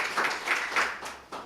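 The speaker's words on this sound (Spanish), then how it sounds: "Dale un aplauso al Señor" A church congregation claps in a brief, uneven burst of applause, with a few separate swells of clapping that sound close and moderately loud.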